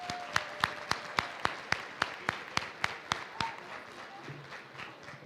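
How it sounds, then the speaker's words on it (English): Sharp, evenly spaced claps ring out at a quick steady beat as a banquet audience applauds award participants at an annual conference dinner, then the rhythm loosens and fades into room noise. "would you please give one more round of applause for everybody who"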